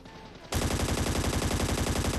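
Automatic gunfire in the mobile battle royale game Scarfall 2.0 bursts in abruptly after a quiet half second, then continues as a loud, rapid, evenly pulsing stream of shots to the end.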